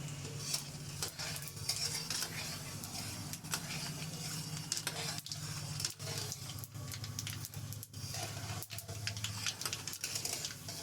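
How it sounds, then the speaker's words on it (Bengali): Five-spice and white mustard seeds splutter in hot oil while pineapple preserve is being made, a continuous faint crackle with scattered sharp pops and ticks, no talking. "এই যে ফোড়নটা ফুটছে"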